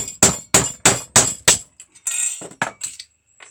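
Five sharp, evenly spaced hammer blows strike a data disc during scrap work, each a loud ringing metallic crack, followed by a scatter of clinking and crunching as pieces break and settle.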